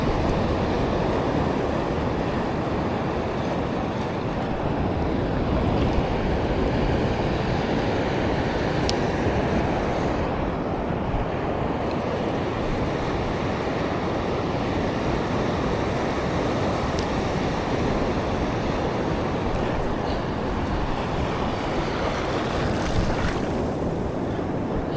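Open sea water with waves, heard from a fishing boat, a steady broadband wash of surf and wind rolling on for the whole stretch, loud and close with no voices.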